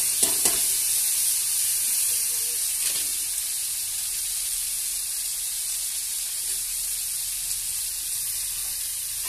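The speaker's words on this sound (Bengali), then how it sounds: "এটাকে আমি ভালো করে ভাজা হতে দেবো।" Potatoes and onions frying in mustard oil in a kadai, giving a steady broadband sizzle throughout with a few brief stirring knocks near the start, fairly close and continuous with no talking.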